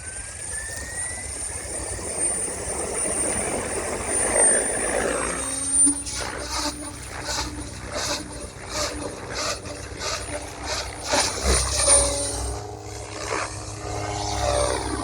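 An RC helicopter with a FrSky Vantac RF007 Rotorflight flight controller spools up outdoors, rising whine and whirring giving way to pulsing, ratcheting rotor chop that swells and fades as it flies.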